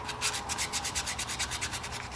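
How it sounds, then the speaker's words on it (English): Electrical contacts on a 2000 Yamaha VStar 1100 motorcycle are sanded with 1000 grit sandpaper, giving a close, fast, rhythmic back-and-forth scratching of about a dozen quick strokes, heard alone. "I'm going to take just a little bit of sandpaper and just sand those off a bit"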